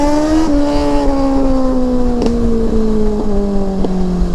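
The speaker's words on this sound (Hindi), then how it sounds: "Very loud flames coming out of the exhausts" A loud motorcycle engine fires a string of sharp exhaust pops and crackles over a steady droning idle, with no talking.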